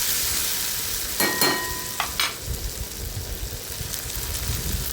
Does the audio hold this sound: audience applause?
no